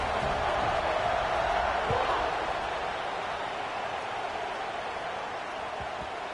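Stadium crowd roar at a college football homecoming rivalry game, a broad steady wash of cheering that swells early and then holds at a dull, distant level with no clear talk over it.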